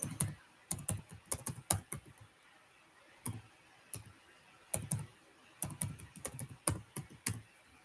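Irregular bursts of crisp keyboard clicks as a password is typed on a computer keyboard, short clusters of keystrokes separated by brief pauses, close and clear with no talking.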